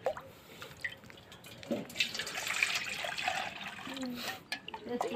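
Water trickles and splashes as a container is filled during a game, with dripping and pouring sounds running steadily under chatter and laughter in the room.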